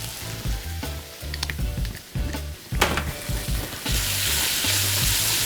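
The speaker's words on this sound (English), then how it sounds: "We're gonna put some tomato paste in here too." Tomato paste goes into a hot pan with garlic and peppers, bringing a loud, steady close-up sizzle and frying crackle, with a low hum underneath and the sizzle swelling brighter toward the end.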